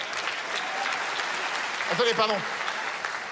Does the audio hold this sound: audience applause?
yes